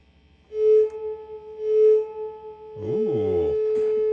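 Spring reverb of a '64 Fender Vibroverb reissue guitar amp rings out as a sustained tone with a few swelling splashes and a boingy, warbling burst near the end, fairly loud and alone.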